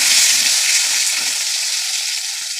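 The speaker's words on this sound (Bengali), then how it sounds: "লাল লাল করে ভেজে নিই" Slices of pointed gourd (potol) fry in hot oil until reddish, giving a loud, steady, close sizzle that crackles evenly throughout, with no talking.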